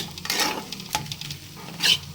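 Mashed potato with salt and turmeric stirred continuously in a frying pan, a short burst of close scraping and sizzling with a couple of sharp utensil knocks against the pan, no voices.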